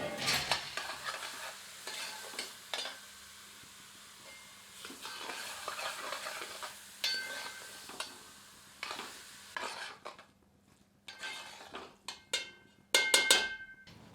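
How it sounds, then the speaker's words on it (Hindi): Grated carrots for gajar halwa are stirred in a pan over medium heat, with soft repeated scraping strokes over a faint sizzle. The bursts come in an uneven rhythm and fall quiet briefly between stirs. "आंच को मध्यम रखते हैं और इसे अच्छी तरह मिला देते हैं।"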